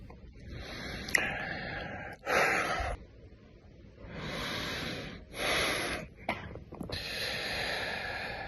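Someone breathes heavily, with several loud, rasping inhale and exhale bursts separated by short pauses, heard close and without speech.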